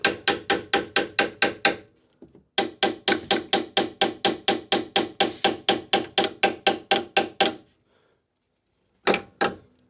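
Metal hammer blows strike parts being seated on a Rover 75. The blows come in quick, even bursts of sharp, close knocks, with brief pauses between runs and a final pair after a longer gap.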